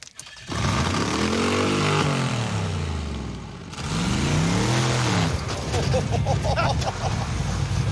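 A 1970 Dodge Super Bee's V8 revs hard during a burnout, rising and falling in two loud sweeping pulls, then holding a rough, roaring high idle with tire noise.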